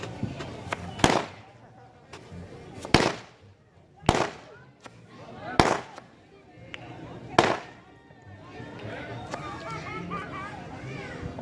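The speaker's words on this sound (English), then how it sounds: "I think they got Roman candles." Roman candle fireworks at a Fourth of July display, five sharp pops spaced a second or two apart with crackling between, at moderate distance, with people talking throughout.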